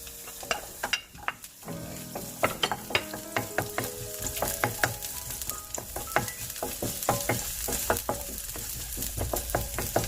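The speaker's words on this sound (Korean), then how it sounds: "먼저 마늘을 볶아주겠습니다." Garlic stir-fries in lightly oiled hot pan with an ongoing sizzle, broken by frequent clacks and scrapes of a utensil stirring, heard close up with no talking.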